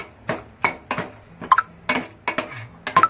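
A spoon scraping and knocking in a pan while pav bhaji vegetables are stirred with kasuri methi, about ten separate clinks and scrapes in an uneven rhythm, close by with no talk.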